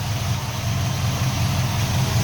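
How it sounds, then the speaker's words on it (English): A 1964 Oldsmobile Jetstar 88 convertible's engine idles with a steady, even low rumble, close and continuous with no speech. "Motor runs good."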